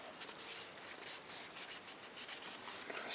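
Paint that has bubbled up under brake fluid is being scraped and rubbed off a motorcycle turn signal lens on a Suzuki GS850, a steady close, quiet scratching with uneven strokes throughout.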